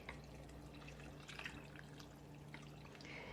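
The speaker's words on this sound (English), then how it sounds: "So I'm going to add a little bit of water because I want it to be soupy" Water trickles and splashes faintly into a pot of cabbage soup with chicken bouillon, a steady quiet pour under low kitchen background hum.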